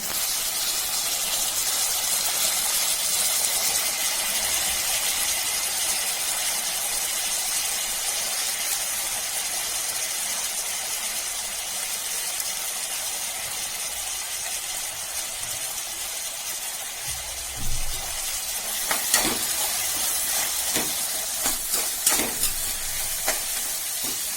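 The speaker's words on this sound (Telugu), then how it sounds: "ఆనియన్స్ వేగాయి, వంకాయ వేయాలి. ఇప్పుడు వంకాయ వేయాలి." Brinjal goes into onions frying in a pan: a constant, even sizzle and hiss, then louder clattering stirring strokes toward the end, with no voices.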